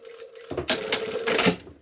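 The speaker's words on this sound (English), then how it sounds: "we are literally only sewing for I don't know, an inch." A sewing machine stitches a short run along a collar seam, a quick close mechanical whirring rattle in two bursts lasting about a second, with no talking.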